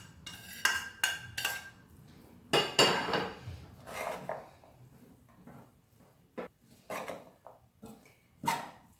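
Fried eggs being stirred into cooked beans for feijão tropeiro in a pan, with a utensil clattering and scraping against the metal in irregular bursts, some loud and close, others softer, and no talking.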